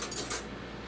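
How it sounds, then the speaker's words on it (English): A spoon is picked up from among kitchen utensils, making a couple of light, quick metallic clinks at close range before fading into quiet room tone. "Now, I'm gonna grab a spoon"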